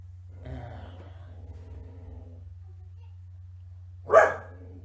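A pet dog gives one sharp, fairly close bark near the end, after faint indistinct murmuring and a quiet stretch over a low background hum.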